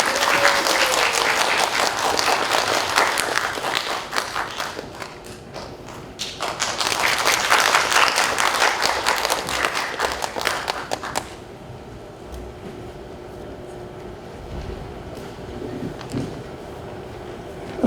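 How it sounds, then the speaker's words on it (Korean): Applause from a literary festival audience in Seosan greets poet Jang Seok-ju at a lecture, a loud, dense clapping that swells, dips briefly, swells again, then fades to quiet room tone. "박수로 맞이해 주십시오"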